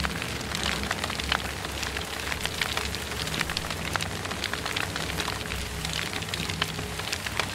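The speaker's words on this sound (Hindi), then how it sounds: "ये बारिश हो रही है भाई" Steady broadband rain patter falls throughout, dense and continuous with fine drop hiss and no pauses, heard alone without talk; the rain is in a video game while real rain also falls outside.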